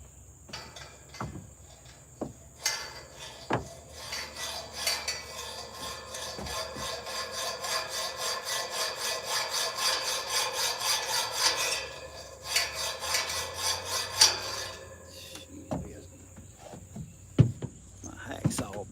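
A dull hacksaw cuts a truss bearing plate in steady back-and-forth rasping strokes, growing louder and more regular through the middle, with scattered knocks and handling noises at the start and end.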